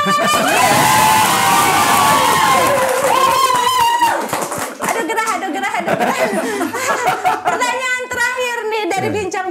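A large crowd at an event in Bogor cheers and shouts loudly, with excited voices and some laughter. A strong roar at the start gives way to choppier bursts of cheering mixed with talk.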